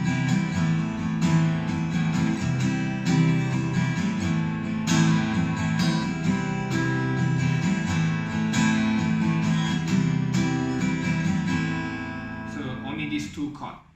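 Acoustic guitar strumming two beginner chords in a steady rhythm, full and close, ringing continuously before fading near the end.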